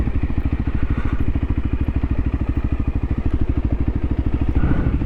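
A single-cylinder motorcycle engine, heard at an event with racing under way, chugs steadily nearby with a fast, even thumping pulse that holds without a break throughout.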